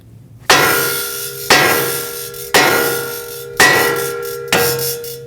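Five sharp, ringing metallic hammer strikes on a Toyota Corolla steering knuckle to free the tie rod stud, evenly spaced about a second apart, each clang decaying with a bell-like tone.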